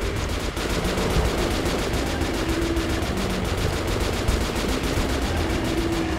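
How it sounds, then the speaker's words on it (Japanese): Shotgun fire in Metro Last Light Redux, rapid repeated blasts in a fast, regular rhythm, loud and close over a constant noisy backdrop. "ショットガンだ。"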